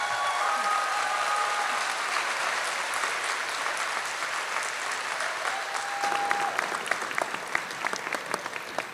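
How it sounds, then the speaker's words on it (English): A commencement crowd at the Boulder County campus claps steadily and loudly for the class of 2023, a dense continuous roar of many hands that swells slightly toward the end, with a faint whistle near the middle. "Let's give them another round of applause"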